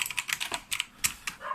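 Typing on a cheap Zk-3 mechanical keyboard, a quick, uneven run of sharp clacking keystrokes close to the microphone, with no speech over it.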